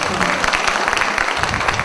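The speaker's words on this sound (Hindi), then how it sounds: "एक बार ताली बजा दीजिए।" Audience applause at a Hindi poetry recital, a dense steady patter of clapping filling the whole moment at moderate loudness, with speech also present.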